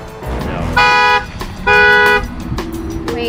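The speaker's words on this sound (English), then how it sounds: "It keeps honking when we ask a question" Two loud, sustained horn honks from an abandoned Tesla in quick succession, each about half a second long, with quieter road noise around them.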